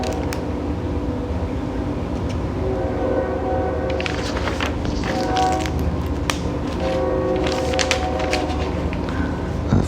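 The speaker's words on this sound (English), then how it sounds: "And that train sounds like it's in my back fucking yard." Train rumbling by with horn blasts, a steady low rolling rumble under repeated clattering and horn tones that carry through the clip, fairly prominent rather than faint.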